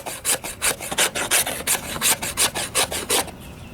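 A Schrade SCHF56L fixed-blade knife's 90-degree spine scrapes wood into shavings, giving a quick, even series of about a dozen close, rasping strokes with no talking.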